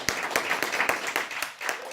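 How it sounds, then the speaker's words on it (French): A church congregation applauding during a worship service, with a steady wash of clapping broken by a few sharper, louder claps across the stretch. "On acclame le Seigneur."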